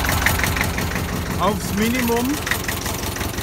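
A 1966 Fuchs 301 excavator with a Deutz 812 engine idles at low throttle, a steady low rumble running throughout while someone speaks over it.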